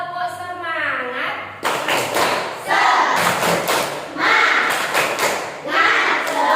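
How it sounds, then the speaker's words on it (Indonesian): Students in an Indonesian classroom doing a rhythmic spirit clap, tepuk semangat, loud and close in repeated bursts of patterned clapping with group voices chanting along. "Mulai. Tepuk semangat."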